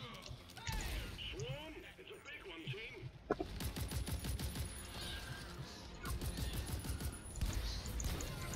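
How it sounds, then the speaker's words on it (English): A sentry gun in Deep Rock Galactic fires in fast bursts of shots, fairly close and loud, layered over chaotic swarm combat with mechanical clatter and a player talking. "Let's put down my sentry gun."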